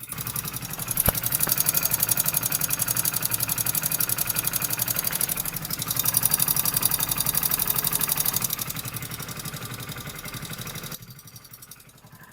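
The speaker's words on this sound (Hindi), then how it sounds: "इंजन से किस तरह टिक टिक टिक टिक का नॉइज आ रहा है" Hero Splendor BS6 FI motorcycle idling with a steady fast ticking from the engine head (tappet noise), loud and close throughout, easing slightly near the end.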